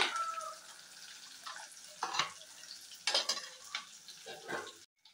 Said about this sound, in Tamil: இது கொஞ்சம் பொரியட்டும், இந்த பூண்டு வந்து கொஞ்சம் வாசனை நல்லா வருது